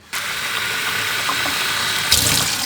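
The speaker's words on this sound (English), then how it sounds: "I did 2 cups of rice, so I'm doing 2 cups of water." Water running from a tap into a pot of rinsed rice, a continuous splashing pour that starts abruptly and swells louder near the end, with no talk.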